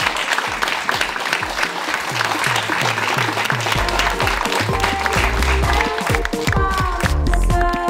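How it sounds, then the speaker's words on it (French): A company team applauds together after announcing results, with dense, steady clapping throughout, punctuated by thumping beats and music-like tones building toward the end. "On va s'applaudir."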